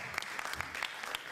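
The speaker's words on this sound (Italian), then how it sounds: "L'ha fatto apposta per prendersi l'applauso" Faint, sparse clapping from an audience at a Telethon charity event in Termini Imerese, a handful of separate claps heard at a distance.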